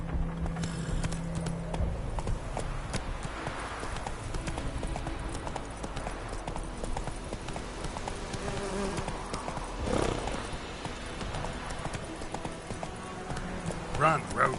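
Roach, a horse in The Witcher 3, gallops with steady clip-clop hoofbeats and an occasional whinny, joined by game ambience and a faint insect buzz under a voice urging it on.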